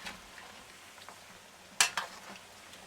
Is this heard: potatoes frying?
yes